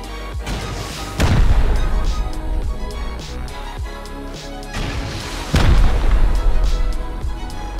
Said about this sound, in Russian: Отойди, взрываем дальше, они могли перенести.